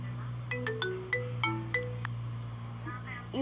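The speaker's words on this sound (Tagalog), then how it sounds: "I have a full tutorial for you guys how to get this ringtone" A phone ringtone plays a short melody of bright, chiming notes over a steady low hum, then fades as a faint voice briefly rises at the end.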